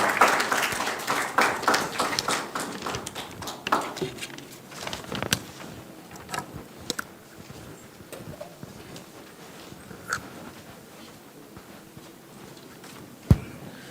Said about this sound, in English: please give a huge round of applause to Mr. Neil Ramesh